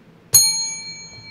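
A single bell struck sharply once, ringing with a bright metallic ding and a long sustained tone that slowly decays, close and clear against quiet room noise.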